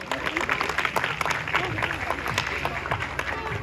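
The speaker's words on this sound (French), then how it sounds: "on peut encore une fois l'applaudir." Audience applause at a sea lion show at the Plaisance du Touch zoo, steady dense clapping throughout with a presenter's voice speaking over it.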